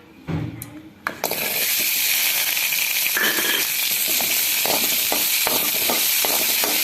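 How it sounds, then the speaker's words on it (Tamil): Green chillies sautéing in a spoonful of oil in a pan for a green chicken gravy: after a brief quiet start with a clink, a loud, steady sizzle fills the rest, with occasional stirring scrapes. "இப்போ 1 ஸ்பூன் எண்ணெய் ஊற்றிட்டு"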